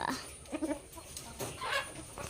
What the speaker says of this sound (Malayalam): എല്ലാ കോഴികളും കാണിത്തരും കേട്ടോ